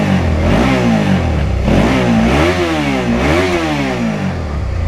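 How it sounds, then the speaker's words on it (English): A Suzuki V-Strom 650 adventure motorcycle with its stock muffler revs loud and close, the engine note rising and falling through several throttle blips over a steady idle rumble, with no talking. "Let's hear it in all of its stock muffler glory."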